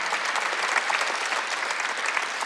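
A church congregation claps steadily through an Easter Sunday service, a continuous even patter of many hands at moderate level with no speech over it.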